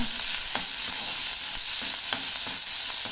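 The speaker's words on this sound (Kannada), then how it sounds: "ಈಗ ಮೊದಲಿಗೆ ಈರುಳ್ಳಿ ಹಾಗೂ ಮೆಣಸು ಹಾಕ್ಕೊಳ್ತಾ ಇದ್ದೀನಿ" Onions and chilies sizzle in a hot pan, a constant bright hiss broken by soft, regular ticks and scrapes from stirring.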